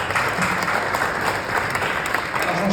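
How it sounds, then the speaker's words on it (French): Sustained applause from a crowd at a memorial tribute ceremony in honour of Jean-Michel Billaut, dense, steady clapping throughout with no voices over it. "J'aimerais qu'on l'applaudisse."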